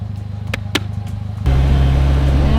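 A Polaris vehicle's engine idles with a steady low rumble, then abruptly jumps to a louder, fuller drone as it pulls away, close and alone without voices.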